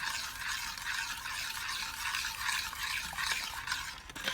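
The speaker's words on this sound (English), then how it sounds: "We're going to stir this around to make sure our sugar's melted." Granulated sugar mixture melts in a pot for pecan toffee while a utensil stirs it steadily, giving a continuous close scraping and hissing texture with light clinks and no talking.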